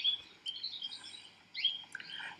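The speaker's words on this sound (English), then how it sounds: "So here is a little robin song." A robin sings thin, high warbling phrases in two or three bursts with brief pauses between, clear and fairly close against a quiet background.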